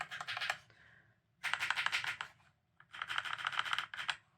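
Rapid typing on a Keychron K4 V2 keyboard, three close bursts of dense, clacky keystrokes separated by short pauses, with no talking.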